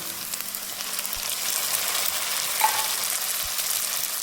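Onion, green chilli and garlic fry in a pan as tomato goes in, giving a steady, close hissing sizzle throughout with a brief soft clink near the end.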